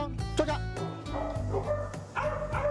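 A trained rescue companion dog yips and barks in short, close bursts during an obedience session, its calls scattered over a low background hum.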